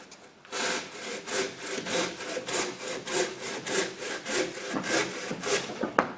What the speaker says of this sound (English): the Silky Gomboy 300 millimeter Professional Curved